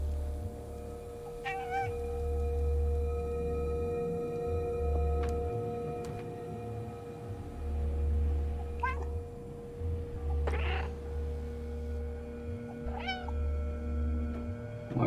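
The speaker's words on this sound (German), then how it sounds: "Ich finde das Miauen so süß einfach, wirklich" The cat meowing in the video game Stray, several short plaintive meows scattered over a low droning ambient game soundtrack, fairly clear and spaced seconds apart without talk.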